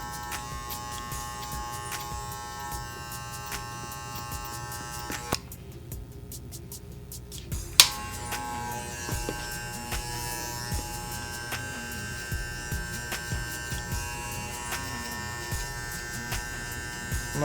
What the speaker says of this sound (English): Notice I'm just using the corners of the clippers.